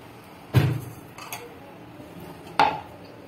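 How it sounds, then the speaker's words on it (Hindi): A spoon scrapes and knocks against a pan while chicken samosa filling is mixed, two distinct clanks with softer scraping between, close by in a quiet kitchen. "इस सारे मसाले को हम अच्छे से मिक्स कर लेंगे।"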